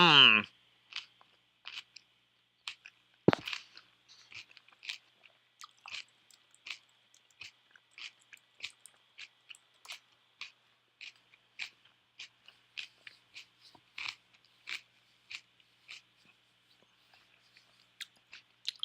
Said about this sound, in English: Ranch and kimchi, one of the tastiest suggestions I've been given so far.